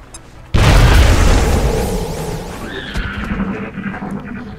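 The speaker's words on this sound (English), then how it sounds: "Throwing grenade!" A grenade blast in XCOM: Enemy Unknown: one sudden loud boom, then a long rumbling decay as debris settles. There is no talking.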